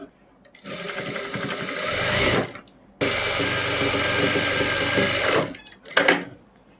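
A sewing machine stitches an Afghani salwar in two close, loud, steady runs of rapid whirring, separated by a short pause, followed by brief handling clatter; a voice also speaks in the background.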